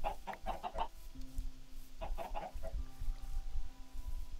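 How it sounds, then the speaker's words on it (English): Chickens in a Minecraft modpack video game cluck in short bursts, two close clusters of rapid clucks separated by a pause, over a quiet low hum. "Chickens, how did you get out of there?"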